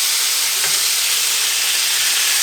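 Pork chops sizzle loudly on a hot surface while being flipped for a barbecue pork chop sandwich, a dense, unbroken hiss with a faint clink early on.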